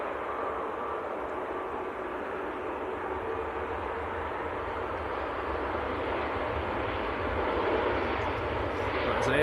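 A Lufthansa Airbus A320 in old livery, arriving from Frankfurt and landing at Manchester Airport in freezing weather, gives a steady broadband engine roar at moderate distance that swells slightly toward the end, with no talk over it.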